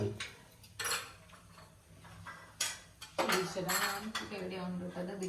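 Plates and dishes clinking and clattering as they are handled blindfolded during a home cooking challenge, with a few sharp knocks and scrapes spread over a few seconds and people talking over them.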